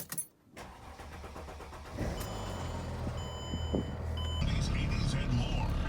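A 2008 Mercedes E320 with worn motor mounts cranks and catches, then settles into a steady close idle that grows slightly louder partway through.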